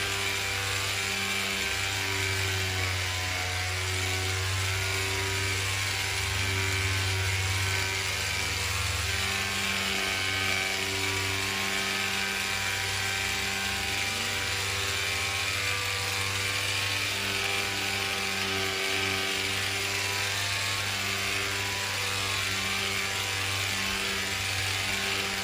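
A polishing machine buffs sealant off the aluminum skin of a vintage camper, giving a steady close motor whir with a constant mechanical hum and no pauses.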